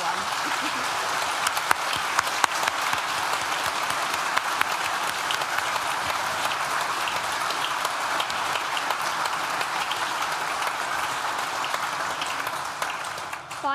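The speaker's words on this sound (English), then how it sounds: "Can we give a wide round of applause and thanks to all participants who made the event a memorable one." Loud, sustained applause from a graduation ceremony audience at a law school, a dense, continuous roar of clapping hands that holds steady for over ten seconds before starting to fade.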